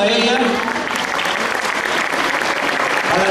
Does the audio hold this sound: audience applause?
yes